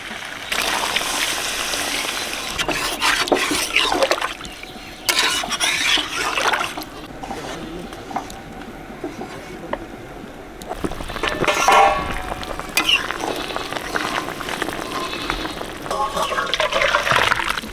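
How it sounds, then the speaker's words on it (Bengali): Water is poured into a simmering chicken leg piece curry after the meat has been fried with garam masala, making a steady splashing, gurgling pour that swells and eases with short breaks, fairly loud and close. "মাংস কষানো হয়ে গেছে দিয়ে দিচ্ছি জল"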